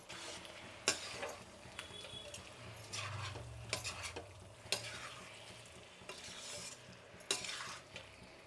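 A spoon stirs chicken curry in a pan after ghee has been added, giving a soft steady sizzle broken by a few clear metallic scrapes and clinks against the pan.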